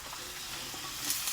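Vegetables with a spoonful of salt frying and being stirred in a pan for home-style cooking, a steady close sizzle with light scraping, alone and getting slightly louder near the end.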